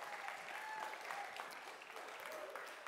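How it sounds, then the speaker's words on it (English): A crowd at a camp service claps steadily in sustained applause, dense and even throughout. "give Ruth a big round of applause"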